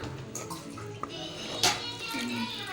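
Water is poured from a tumbler into egg curry in a pan, a soft splashing trickle with a few clinks, quiet and close.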